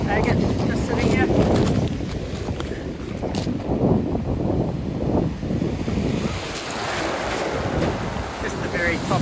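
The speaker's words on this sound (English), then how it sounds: "Just the very top end of the waves here." Ocean waves wash steadily onto a beach under gusty wind, a continuous loud surf roar with swelling breakers, the mic buffeted throughout.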